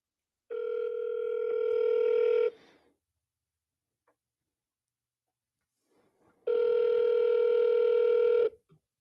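Telephone ringback tone on an outgoing call, two steady electronic tones of about two seconds each separated by roughly four seconds of silence, clear and alone.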